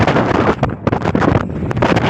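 Outback wind in Coober Pedy buffets the microphone in loud, continuous gusty roaring bursts with brief lulls between them.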